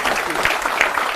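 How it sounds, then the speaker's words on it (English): Brief burst of audience applause at a university speaker series event on sport and business, a dense wash of clapping lasting about a second. "Can we get a round of applause for Lucy and Joel?"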